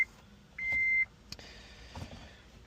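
A 2010 Honda Civic's immobilizer gives a single steady electronic beep, about half a second long, followed by faint clicks and low rumbling noises.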